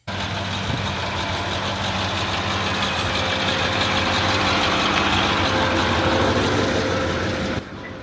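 A heavy truck engine idles steadily and loudly at close range, warming its old oil before an oil change, a continuous low rumble with a constant hum that stays even before dropping slightly at the end.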